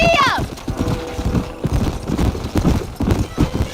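Horse hooves clip-clopping in the Red Dead Redemption video game, a brisk rhythmic trot close up, opening with a whinny, with a voice and game speech over the steady hoof beats.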